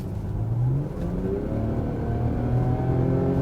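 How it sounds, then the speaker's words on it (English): A Range Rover Velar's supercharged V6 petrol engine revs up close, its throaty pitch climbing and holding in a strong, continuous growl. "we've got the supercharged V6 petrol"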